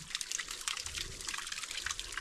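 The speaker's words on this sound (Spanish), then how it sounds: "Esta caída de agua." Water trickles and splashes steadily over a carved Inca stone fountain, a constant bright patter with small drips, fairly close and without talk.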